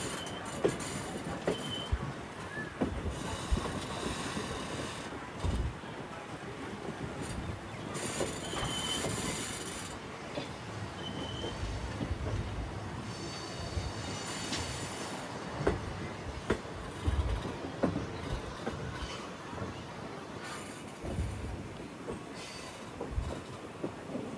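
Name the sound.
passenger train arriving at Nagercoil Junction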